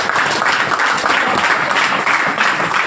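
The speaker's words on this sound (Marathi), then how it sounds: "टाळ्या वाजवा" An audience at a Dapoli career-guidance event claps together in a dense, steady burst of applause that fills the room and holds loud throughout.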